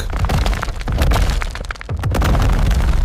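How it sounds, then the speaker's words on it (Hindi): A huge rock crashes down with a loud booming impact, followed by heavy rumbling and cracking bursts that stay loud throughout. "चट्टान के गिरने की जोरदार आवाज"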